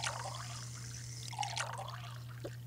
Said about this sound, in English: I just grabbed a water bottle, let's fill it up.